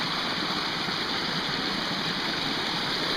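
Storm-fed creek in Costa Rica, swollen during Tropical Storm Tomas where the ground is usually dry, rushes with a steady, broad hiss of flowing water, moderately loud and unbroken, with no voices.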